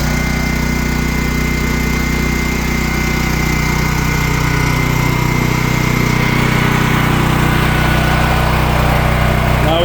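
A Champion dual fuel generator engine runs loud and steady close by, a continuous droning rumble with a constant hum and no pauses, alone without talking.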